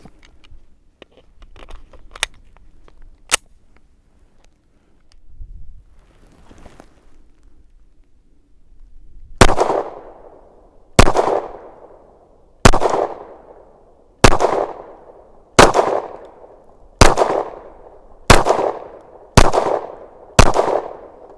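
A Canik TP9DA 9mm pistol fired outdoors: two early sharp shots, then a steady string of eight loud, close reports about a second and a half apart, each trailing a brief echo.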